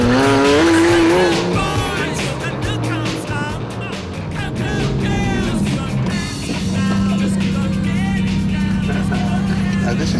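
A Ferrari F50 and Porsche cars race, engines roaring loud and close with tires squealing and skidding, revving rising and falling over ten seconds while a person talks over the noise.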